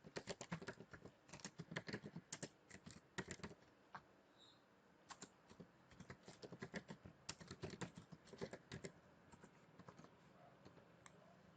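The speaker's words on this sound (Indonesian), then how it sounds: "langsung saja kita ketik perintah untuk memasukkan datanya" Typing a command on a computer keyboard while entering database data, with dense, irregular bursts of key clicks running steadily and close throughout, no talking.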